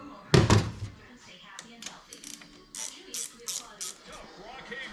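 A hand wrench works on a dirt-track race car during a fuel-system repair, giving a heavy metallic clunk followed by a run of quick ratcheting clicks and knocks, close by, with voices talking over it.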